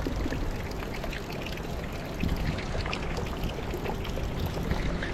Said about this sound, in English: Beautiful fountain, great water, fontanella.